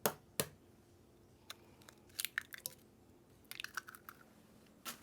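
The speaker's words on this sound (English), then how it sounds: "now I'm going to whisk in these 2 eggs" Eggs whisked into a chocolate cake batter in a bowl, heard as a few quiet, scattered clicks and scrapes of the whisk, sparse and close with no one talking.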